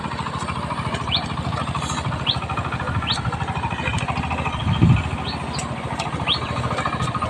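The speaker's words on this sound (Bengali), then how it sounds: "যে পাওয়ার টিলার দিয়ে চাষ দিচ্ছে জমি" A power tiller's small engine chugs steadily with a dense low putter while ploughing a muddy field, while birds chirp now and then in the background.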